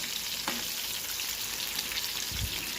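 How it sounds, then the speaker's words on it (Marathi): Chilli fritters (mirchi bhaji) fry in hot oil, giving a continuous close sizzle and crackle with a couple of brief knocks from turning or stirring. "छान असं फ्राय करून घ्यायच्या, जेणेकरून त्या एकदम क्रिस्पी आणि कुरकुरीत लागतील"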